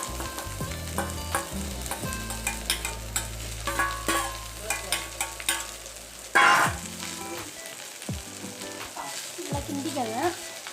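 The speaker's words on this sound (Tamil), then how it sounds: "நல்லா வதக்குங்க." Bitter gourd being stir-fried in a pan with curry leaves, a spatula scraping and tossing in a steady rhythm over continuous close sizzling, with one louder clatter midway.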